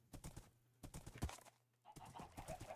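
Horse hooves clip-clop in the Minecraft video game, quiet rhythmic clusters of steps separated by short pauses.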